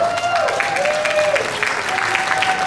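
A crowd applauding at a jazz festival concert, with dense, steady clapping throughout, fairly close and loud, with a faint tone drifting through the background.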